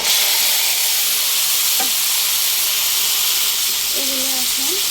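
Red amaranth leaves frying with shrimp in a pan, a loud continuous hissing sizzle that fills the whole stretch, with faint brief tonal sounds in the background.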